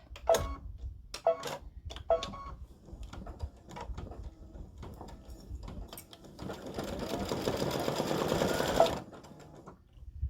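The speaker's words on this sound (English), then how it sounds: "it's going to go around and stitch a satin stitch around the flip-flop" An embroidery sewing machine stitches a satin stitch around a flip-flop design, first with a few separate mechanical clicks and thumps, then a fast, steady whirring run of stitching that stops abruptly.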